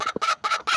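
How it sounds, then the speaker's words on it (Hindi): A broody hen sitting on eggs lets out sharp, agitated squawks, three quick harsh bursts close by, with no voices over them. "अंडे जब मुर्गी अंडा देती तभी यूं शोर मचाती है।"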